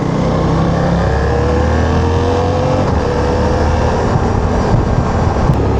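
A Suzuki V-Strom 800 DE motorcycle engine holds high revs around 7,000 RPM, a loud, steady droning roar with rising and falling tonal whine and wind rush, heard continuously with no talk.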